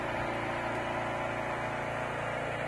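Kobelco SK75UR excavator engine idling at a steady, even drone, a continuous broadband rumble with no pauses and no voices, close and moderately loud from start to end.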